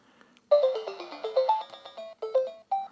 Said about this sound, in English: You can hear that pretty bad sounding music right there.